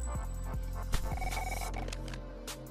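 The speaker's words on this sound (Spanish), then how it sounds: "Suena el teléfono." A telephone rings in the football video game PES 2019, a short electronic tone over steady in-game music and menu sounds.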